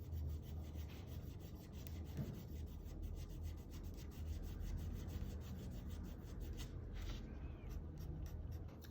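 Marker tip rubbing and blending ink along the edges of a drawing on paper, colouring a Fortnite Axo skin; a steady, quiet scratchy stroking continues throughout.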